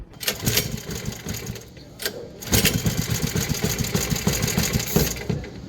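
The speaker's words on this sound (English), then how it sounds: "Me and the teacher eventually tested out the engine to see if it started up, and this happened." A rebuilt small boat engine sputters, catches after a pause, then chugs in a rapid, steady, close rhythm.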